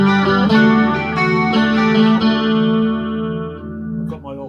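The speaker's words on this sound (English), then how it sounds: "I've got my old faithful Stratocaster here, so you can hear, hopefully you can hear how sort of crisp and sort of alive that sounds" A Stratocaster electric guitar rings out through a Marshall MG100HDFX amp after its repair, with sustained strummed chords and bright, crisp overtones that decay toward the end.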